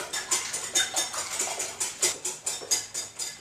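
Six egg whites being whisked by hand in a bowl, a quick regular rhythm of light scraping taps, about three strokes per second, close and clear with no talk.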